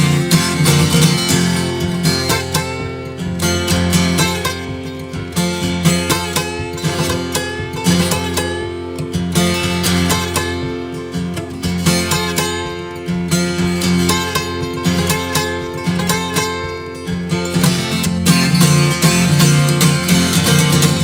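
A wailing, harmonica-like instrument imitates a distant train whistle, with long sustained chords rising and falling over a steady chugging rhythm for about twenty seconds.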